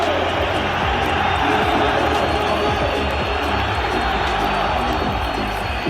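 Stadium crowd at an Inter Milan versus Milan Coppa Italia match giving Adriano an ovation: a dense, steady roar of the full stadium, loud and unbroken throughout.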